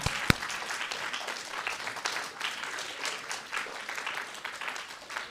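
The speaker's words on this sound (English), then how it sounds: "Please give one more round of applause to all 4 of our storytellers." Steady applause from an audience at a storytelling event, many hands clapping continuously at moderate volume for several seconds.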